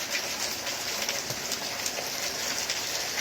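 Heavy rain pours down in a dense, steady hiss of countless drops hitting surfaces, loud and close, with no other sounds standing out.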